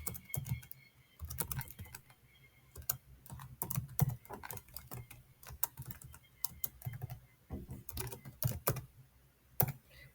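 Keys clatter in uneven bursts as commands are typed on a computer keyboard while setting up a virtual lab, with close, crisp clicks, short pauses between runs and no talking.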